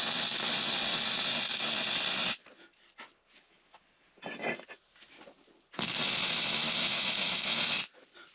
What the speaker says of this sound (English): So what I'm going to do now is just weld these edges up